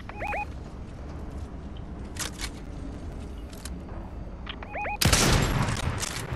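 Bursts of gunfire ring out in a Fortnite match, scattered shots mixed with game sounds and a loud sharp volley near the end.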